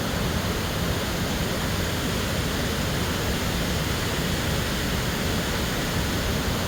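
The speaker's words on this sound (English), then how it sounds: "amazing the ferocity and power of these waterfalls" A powerful waterfall swollen by heavy rain roars in a steady, dense wall of noise, loud and close, with no break across the whole stretch.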